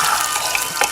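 Asam pedas curry bubbles and sizzles in a pot, a short burst of close, busy bubbling and popping with no talk over it.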